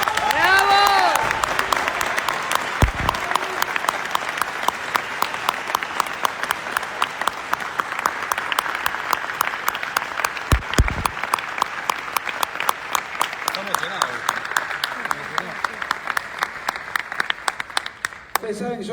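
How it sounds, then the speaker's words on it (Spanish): Sustained, dense applause from a large audience at a book presentation for Agustín Laje's work, loud and close with rapid overlapping claps, and a voice briefly speaking over it at the start. "otro aplauso para Agustín."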